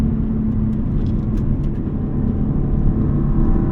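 A 2003 Subaru WRX STi S202 with an EJ207 engine, heard from inside while driving: a steady, loud low engine drone with road rumble, no talk.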